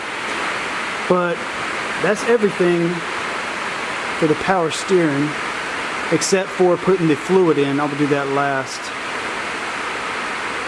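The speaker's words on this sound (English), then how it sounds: "It started raining, so sorry about the noise" Steady hiss of rain falling close by, with someone talking over it in short bursts.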